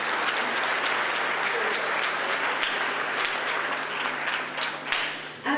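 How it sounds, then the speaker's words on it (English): A large audience breaks into a sustained round of applause at a community event honoring volunteers and supporters, the dense clapping steady and loud throughout before thinning near the end. "So please give yourself a big round of applause."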